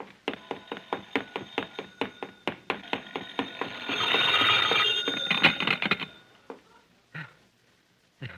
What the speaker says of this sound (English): That's your phone ringing.